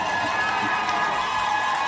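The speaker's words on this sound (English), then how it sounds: "the crowd has come alive, mainly because they're majority Sydney fans" Ice hockey arena crowd, mostly Sydney fans at a women's league semi-final against Brisbane, roars in a steady, bright sustained cheer with no breaks.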